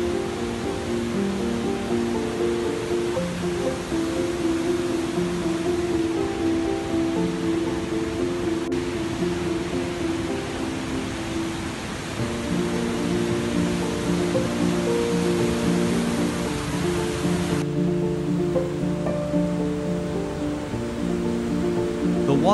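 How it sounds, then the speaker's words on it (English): Athabasca Falls pours a huge volume of water into a gorge, a continuous loud broadband roar that stays steady and unbroken throughout, with no voices. "A huge quantity of water falls into the gorge, making Athabasca Falls a powerful waterfall."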